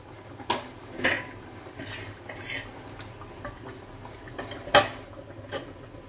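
A metal lid clatters onto a cooking pot of chicken curry in a home kitchen, a few sharp clanks and scrapes standing out over a quiet background.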